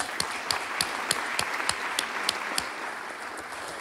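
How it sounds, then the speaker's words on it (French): A crowd at a volunteer recognition evening applauds, a soft, fairly distant clapping wash punctuated by sharper claps falling in a steady, regular beat for a few seconds. "Puis on va s'applaudir, s'il vous plaît."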